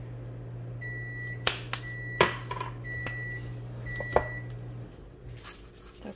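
A kitchen microwave oven hums steadily, then gives several short, clear beeps spaced about a second apart while dishes clink nearby; the hum cuts off shortly after the last beep.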